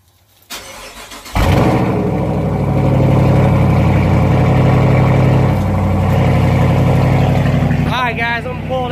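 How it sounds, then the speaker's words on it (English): A car engine cold-starts with a brief crank, catches loudly and settles into a steady, rumbling idle close by; a voice is heard near the end. "we're going to do a quick cold start"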